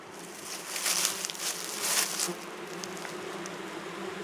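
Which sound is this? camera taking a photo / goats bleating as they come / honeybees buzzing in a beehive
honeybees buzzing in a beehive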